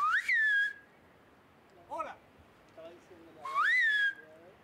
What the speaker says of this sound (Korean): 그런데 이분들 휘파람으로 뭔가 대화를 하는 것 같다.